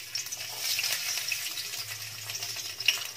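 Chopped garlic frying in hot oil for chilli paneer: a steady, close, crackling sizzle with small pops, heard on its own.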